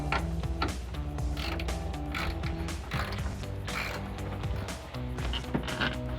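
Ratcheting wrench clicks steadily as it backs a screw out of the stock tail light on a 2019-2026 GMC Sierra 1500, close and continuous with creaking mechanical pawl sounds over a few seconds.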